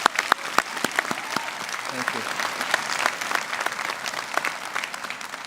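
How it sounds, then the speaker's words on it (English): Audience applause at a Georgian College spring convocation ceremony, directed at the graduates' parents: sustained dense clapping from a large crowd across the whole stretch, with a brief spoken word over it. "So a big round of applause to the parents."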